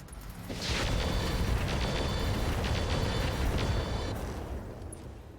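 A mech in the BattleTech RogueTech video game firing its medium laser and bolt-on weapons, a sudden loud burst that swells into a sustained rumbling roar lasting several seconds, then fading.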